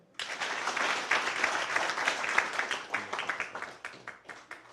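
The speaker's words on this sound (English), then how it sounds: "give a 5-second applaud" Audience applause at a martial arts hall of fame awards banquet, a dense burst of many hands clapping that swells quickly, holds steady for several seconds, then thins into scattered claps near the end.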